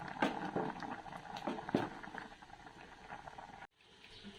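Bubbling and popping of soup boiling in a pot, irregular soft bursts up close that stop abruptly near the end, leaving quieter simmering.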